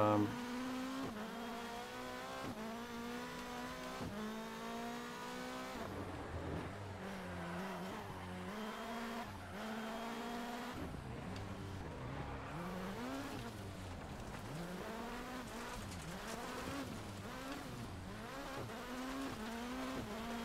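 A powerful rally car in Dirt Rally 2.0 revs and shifts through repeated rising engine sweeps with occasional tire squeal, steady and fairly quiet throughout.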